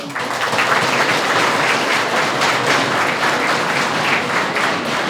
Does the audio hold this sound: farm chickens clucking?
no